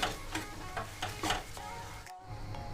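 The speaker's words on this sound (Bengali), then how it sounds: "আমি জাস্ট হালকা এপিট ওপিট করে একটু ভেজে নিচ্ছি" Omelette pieces frying lightly in a pan, flipped back and forth, give a quiet, steady sizzle with soft rhythmic scraping and stirring taps, heard close and alone.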